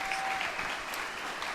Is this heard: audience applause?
yes